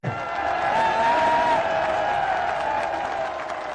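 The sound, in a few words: crowd applause at a political rally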